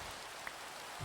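Rain falls in the Minecraft video game, a steady, faint hiss of drizzle that fills the whole second, with no voices and only a tiny tick of a drop midway.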